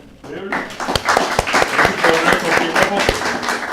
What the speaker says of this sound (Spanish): Vamos a dar un aplauso